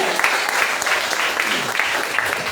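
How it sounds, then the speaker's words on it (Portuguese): A church congregation claps in a steady wave of applause during a deliverance service, loud and sustained through the whole stretch, with voices mixed faintly into the crowd noise. "Aplauda Ele."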